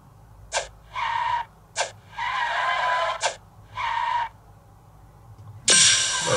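A car drifts and skids in the Car Parking mobile driving game: repeated short tire squeals in separate bursts, five or six in a row, ending in a harsh noisy screech, with no voices.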